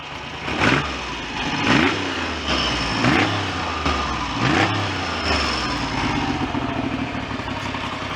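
A Triumph Trident motorcycle engine, its carburettor pilot passageways just cleared, revved in several swelling blips that drop back to a steady, even idle.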